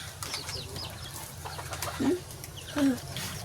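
Chickens on a Thai household's grounds give two short low clucking calls, one around the midpoint and another near the end, against steady outdoor background noise and faint distant bird chirps.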